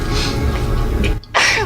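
A short sneeze bursts out after a moment of quiet, following some muffled background sound.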